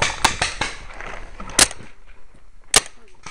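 Paintball markers firing during an outdoor paintball game, a few sharp isolated pops spaced apart, the first ones quicker together and later single shots, fairly close with a quiet background.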